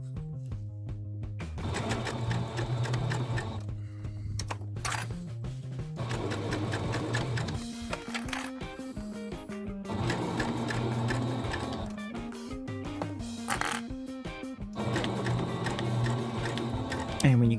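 Sewing machine stitching through faux fur in rapid mechanical bursts, stopping and starting every couple of seconds, close and clear with brief pauses between runs.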